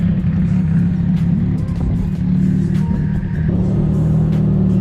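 A car rolls past under a harbour bridge at night, a loud low engine rumble with a steady tonal drone and slight revving, close and continuous for a few seconds.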